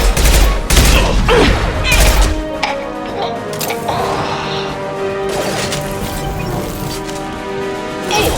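Heavy, sustained gunfire and crashing impacts in the video game Mass Effect 2, loud and dense for the first couple of seconds, then continuing as a busier, lower-level battle mix.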